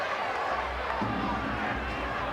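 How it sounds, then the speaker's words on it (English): Rugby league crowd at a South Sydney Rabbitohs versus Manly Warringah Sea Eagles match in 1987, a broad steady roar of voices in the stadium that swells slightly as the crowd warms up, heard from a distance. "South Sydney crowd starting to give voice now."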